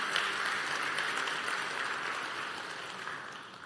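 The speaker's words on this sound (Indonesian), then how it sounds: "Kita beri tepuk tangan untuk kebenaran ini." During a church sermon, a congregation applauds. The clapping is a soft, steady wash of many hands, heard from a distance and tapering slightly toward the end.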